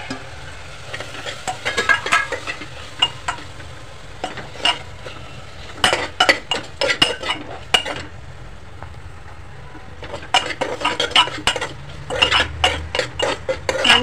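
Crushed ginger and garlic with spices and salt fry in a pan, giving a steady sizzle under repeated clinks and scrapes of a spoon against the metal, coming in bursts of stirring.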